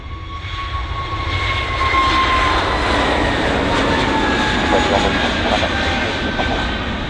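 A jet airliner departs runway 27 at Bristol Airport, a loud, sustained engine roar building and holding with a rising whine, while a faint radio voice sits in the background.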